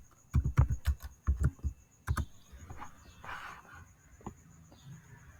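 Fingers tap out a short burst of keystrokes on a Windows 11 computer keyboard, a quick cluster of close clicks followed by a pause and a couple of scattered later taps.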